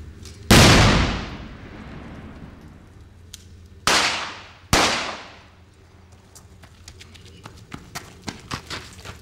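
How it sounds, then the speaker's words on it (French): A grenade blast set off during a film shoot: one sharp, loud explosion rolls off into a long decaying rumble, followed a few seconds later by two more sharp bangs and scattered smaller pops. "au bout de la quatrième essai, je crois que la grenade a explosé"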